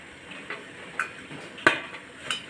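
A lid is set onto a steamer pot holding rolled embutido, with several light metallic clinks and taps spread over a couple of seconds, the sharpest clank near the middle, close and moderately loud over low background hiss.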